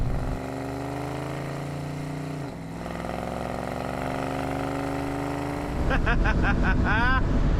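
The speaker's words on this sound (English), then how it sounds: "this 1969 Chevrolet Camaro SS with a huge 454 underneath the hood" A 1969 Chevrolet Camaro SS with a 454 big-block V8 drones steadily under load while driving, its pitch dipping briefly as it shifts, then a rougher, louder surge with rapid rising tones near the end.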